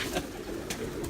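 Pigeons cooing softly on a rooftop loft, low rolling calls close by with faint rustling and no talk.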